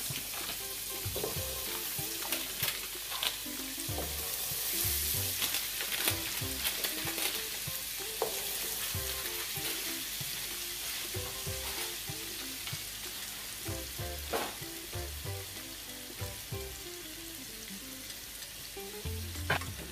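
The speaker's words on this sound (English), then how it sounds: "on medium I eat, I have my pot, so I'm just going to add a stick of margarine to that" A stick of margarine sizzling and melting in a pot on medium heat, a steady close crackle with scattered pops and occasional clinks, continuing without any talk.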